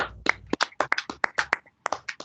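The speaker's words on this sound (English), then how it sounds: "Everybody clap it up, because you know who's coming up next" Hands clap during a motorsport podcast in a quick, uneven rhythm of about a dozen sharp, close claps with brief gaps between them, and no talking over them.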